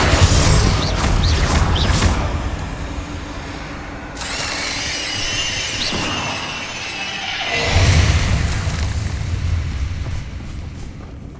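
Confringo fire spells burst in combat in Hogwarts Legacy, a fantasy video game: deep booming blasts with crackling rumble, a heavy explosion at the start and another swell near the end over continuous game noise.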